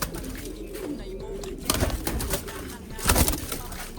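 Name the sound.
racing pigeons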